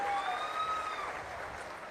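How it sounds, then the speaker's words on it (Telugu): Applause from an audience at a May Day event with the Andhra Pradesh chief minister, a faint, steady patter of clapping held through the short moment, with a thin whistle-like tone drifting over it. "గట్టిగా చప్పట్లు కొట్టి అభినందించండి"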